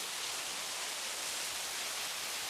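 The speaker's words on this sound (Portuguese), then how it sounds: "Agora, nesse momento, está chovendo muito forte aqui no templo" Heavy rain pours down steadily at a Taoist temple, a dense, even hiss with no breaks, fairly faint and with no voices.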